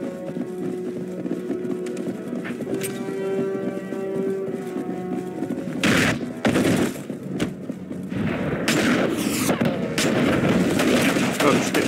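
Gunfire in the video game Enter The Matrix: loud bursts of shots and impacts arrive in the latter half, breaking over a dense, continuous game soundtrack and background noise.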